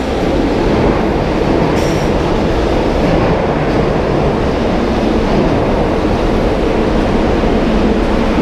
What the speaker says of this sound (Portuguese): Antes eu peguei o novo e agora vou pegar o metrô velho